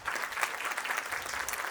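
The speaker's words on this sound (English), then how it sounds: "Please have a big round of applause for the conference." Brief burst of steady applause from a conference audience at an inauguration session, a dense, even wash of clapping heard alone.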